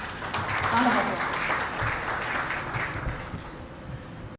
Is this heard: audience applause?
yes